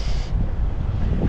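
Steady low wind rumble buffets the microphone for a moment, broadband and fairly loud, with no voices; outdoors among many trees in Calaca.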